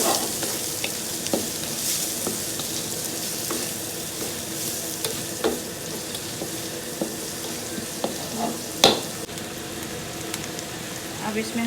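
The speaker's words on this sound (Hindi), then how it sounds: "अब हम इसमें डाल रहे हैं बंद गोभी और करेंगे अच्छे से मिक्स।" Shredded cabbage stir-fried in a pan for Chinese fried rice, a soft steady sizzle with scattered scraping and clinking of a spatula against the pan, moderately quiet, ending with one sharp metallic knock.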